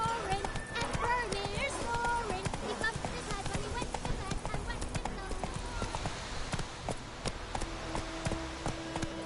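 Roach, Geralt's horse in The Witcher 3, gallops with steady rhythmic clip-clop hoofbeats, close and loud, over game music and spoken lines.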